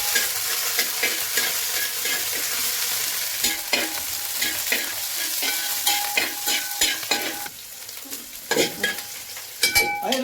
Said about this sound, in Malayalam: ചൂടായിട്ട് അപ്പോൾ നമ്മളതിലേക്ക് ഇഞ്ചി അതുപോലെ പച്ചമുളക് അതുപോലെ നമ്മളെ വെളുത്തുള്ളി ഇട്ടുണ്ട് കേട്ടോ